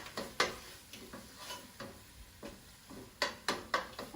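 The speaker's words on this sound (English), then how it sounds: "I'm going to stir it." A spoon scrapes and taps against a pan while an eggplant dish is stirred, giving irregular knocks over a faint sizzle in a quiet kitchen.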